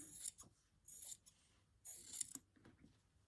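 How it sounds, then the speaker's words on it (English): Fabric scissors trim quilt fabric, giving two or three short crisp snipping bursts close by in a quiet room, with faint handling noises between cuts. "So let's give that a little trim."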